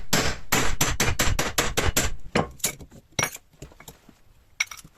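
Sharp metallic clinks and knocks ring out while a car's electric starter is taken apart, a fast run of close, bright impacts in the first two seconds, then sparser single taps and clanks.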